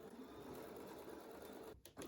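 Domestic sewing machine running a steady continuous stitch over quilt hanging loops with a quarter-inch seam, loud and close, with a brief pause near the end before it resumes.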